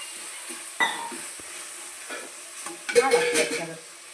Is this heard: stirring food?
yes